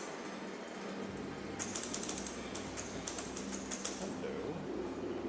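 Clattery mechanical typing on an odd, old-school style keyboard in a game trailer: a quick burst of sharp ratcheting clicks over a steady background hum.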